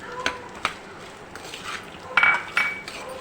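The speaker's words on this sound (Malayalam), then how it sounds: "മാങ്ങയൊന്ന് വാടി വരുന്നത് വരെ നമുക്ക് ഇളക്കി കൊടുക്കാം" A spoon scrapes and clinks against a pan while sliced mango and split green chillies are stirred for a fish mango curry, a few sharp metallic knocks spaced irregularly over a quiet background.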